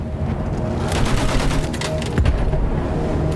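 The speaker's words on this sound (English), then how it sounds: "Use that machine gun. Mow them down." Rapid machine gun fire in the World War I shooter game Battlefield 1, heard as dense, loud rattling bursts that run continuously for a few seconds, punctuated by sharper cracks and a thump near the end.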